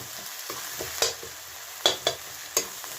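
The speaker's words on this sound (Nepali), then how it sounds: "अहिले चाहिँ राम्रोसँग भुटेको छैन, अझै यसलाई राम्रोसँग भुट्नुपर्छ कि।" Onions and green chillies fry in a pan, a soft steady sizzle broken by a handful of sharp scraping clacks as a spoon stirs them, close and fairly quiet with no talking.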